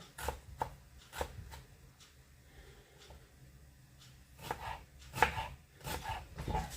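An onion chopped into small pieces with a knife on a board, heard as quiet, close, irregular taps and thuds that cluster more densely in the second half.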